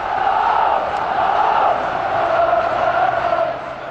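Forty to forty-five thousand Rangers supporters sing together in a football stadium, a dense, continuous roar of massed voices that holds steady throughout.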